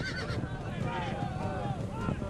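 Horses gather in a large army camp in the Age of Empires II Definitive Edition Genghis Khan campaign, with hoof clatter and whinnies mixed together under a narrating voice.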